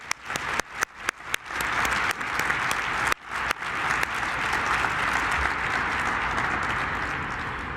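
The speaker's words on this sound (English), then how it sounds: "one more round of applause for our wonderful awardee, Lara de Mesa" An audience at the MIGA 2019 Gender CEO Award ceremony applauds the award winner. A few sharp, separate claps quickly swell into full, sustained applause that tapers slightly toward the end.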